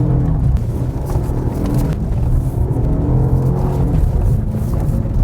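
A Jaguar F-Pace SUV with four-wheel drive climbs a steep off-road slope, its engine giving a steady, loud, close rumble throughout with no voices.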